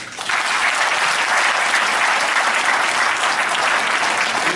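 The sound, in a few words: audience applause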